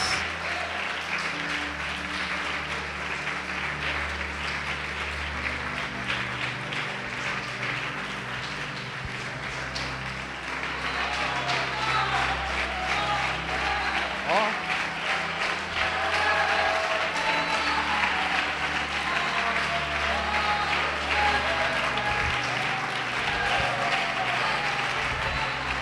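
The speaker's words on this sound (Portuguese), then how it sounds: "Vamos aplaudir o Senhor Jesus." A church congregation gives long, sustained applause during a worship service, steady clapping over low organ or keyboard chords, swelling slightly louder partway through.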